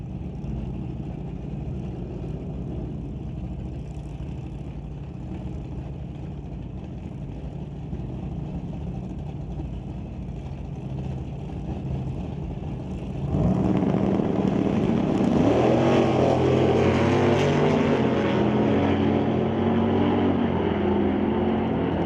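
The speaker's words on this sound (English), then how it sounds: "The White Knuckle Racing Model A will now race against the 65 Coronet." A White Knuckle Racing Model A and a '65 Coronet at a drag race, engine roar holding steady and then surging louder and denser partway through as the cars launch, heard from a distance.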